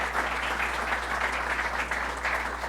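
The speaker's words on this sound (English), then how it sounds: "Let's give him a round of applause for what he has done." Audience applauding a town supervisor at a public event with the governor, a steady, even sheet of clapping over a constant low electrical hum.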